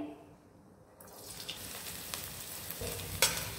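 Cabbage, capsicum and carrot frying lightly in hot oil, a soft steady sizzle that swells after a quiet start, with a few faint utensil clinks near the end and no talking.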